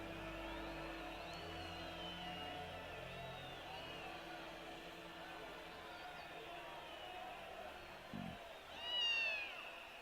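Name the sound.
cat meowing in .hack//G.U. Last Recode video game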